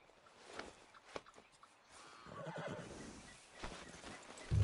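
A horse in Red Dead Redemption 2 gives a clear whinny and then steady hoof clip-clops, with a louder snort or stamp at the very end.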